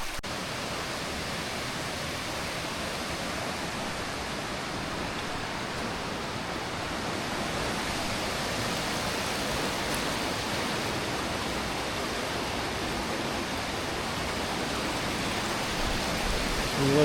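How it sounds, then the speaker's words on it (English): A small stream runs beside a road in Scotland, its steady broadband rush of flowing water continuous and even throughout, fairly close, with no voices over it. "a nice little stream at the side of"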